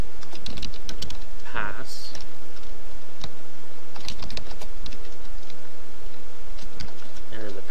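Rapid clicking keystrokes on a computer keyboard, irregular bursts of taps close by, with a person speaking briefly over them.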